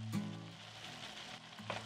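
Beef, diced peppers and vegetables in tomato sauce cooking in a pot, a faint soft sizzle with a couple of quiet utensil knocks from stirring.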